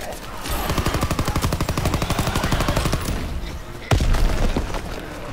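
Rapid automatic gunfire from a video game rattles loudly and continuously, then a sharper blast cuts in near the end before more shots follow.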